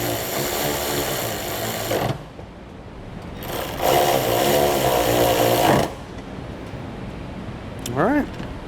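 A power tool driving bolts back into a truck tailgate: two bursts of close, whirring impact tool noise of about two seconds each, separated by quiet pauses, with a brief squeak near the end.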